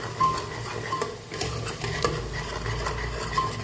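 Tempering for rajma and potato curry sizzling in a pan after a little water is added, a steady hiss and crackle with occasional light stirring clinks, close and moderately loud, with no speech.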